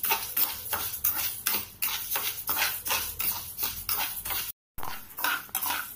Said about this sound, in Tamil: இந்த சைடு அடுப்பை ஆன் பண்ணிட்டு சிறுபருப்பை வந்து நம்ம நல்லா வறுத்து எடுத்துக்கலாம்.